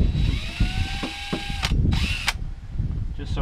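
A power drill backs screws out of an enclosed trailer during an electrical upgrade, giving a few short whining bursts that rise and fall in pitch, close by, mixed with handling knocks.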